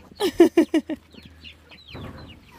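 A hen gives a quick series of five loud clucks, followed by softer murmurs and faint pecking sounds from chickens eating nearby.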